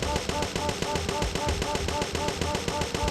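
Rapid, steady automatic gunfire from a weapon in the Parasite Eve II video game, a continuous loud stream of evenly spaced shots with the trigger held down, with no talking.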